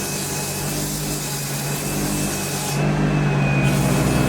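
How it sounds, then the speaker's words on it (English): 150 grit sandpaper rubs steadily over a wooden barrel in a continuous close scratchy hiss that grows slightly louder and heavier toward the end, with no talking. "the next step, we're going to take 150 grit sandpaper"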